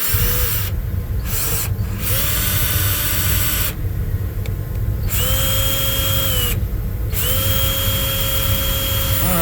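A power drill whirs steadily, spinning a Jeep Comanche speedometer cable chucked in its bit, its whine stepping up and down in pitch as the trigger is eased off and squeezed again several times.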